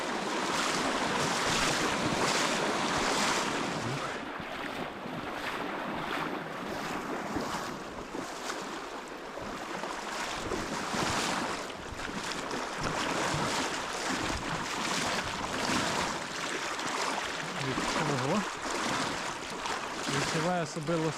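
Wading upstream through a cold autumn river where snow blocks the banks, with loud continuous rushing water and splashing close to the microphone, wind buffeting throughout, and a voice speaking at moments.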